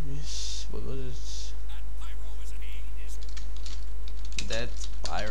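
Keys clatter at a steady pace on a computer keyboard under a loud constant mains hum, with whispered and spoken voices mixed in.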